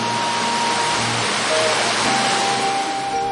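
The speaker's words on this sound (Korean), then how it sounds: "그 끝에 언제 들어도 반가운 물소리가 기다리고 있습니다" Steady rushing water of a mountain valley stream on Jirisan, flowing nearby, a dense continuous wash of noise with no pauses.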